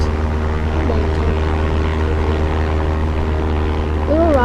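A propeller airplane engine in a flight simulator video game drones steadily and loudly throughout, with a constant low hum and a faint rising tone near the end.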